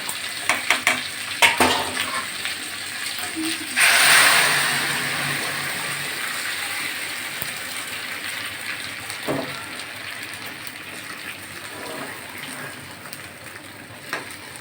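Boiled mung dal is poured into a pan holding a rohu fish head, bursting into a loud sizzle that fades into a softer simmer with occasional utensil clinks.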